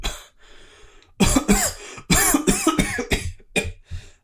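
A narrator's voice imitates a man coughing: a short gasp, then a run of harsh, hacking coughs in uneven bursts, close and loud, trailing off into a final smaller cough.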